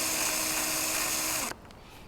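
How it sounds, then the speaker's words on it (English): A cordless drill with a Power Planter garden auger spins with a high, steady whine and buzz, then winds down and stops abruptly near the end, leaving a faint rustle behind. "make sure you've got the drill spinning in the right way"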